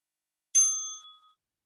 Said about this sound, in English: And there's your bell.